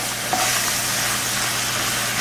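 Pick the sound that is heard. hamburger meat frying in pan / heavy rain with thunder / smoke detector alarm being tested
hamburger meat frying in pan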